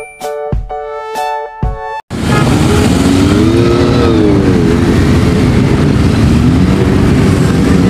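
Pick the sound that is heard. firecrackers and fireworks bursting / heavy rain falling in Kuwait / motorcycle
motorcycle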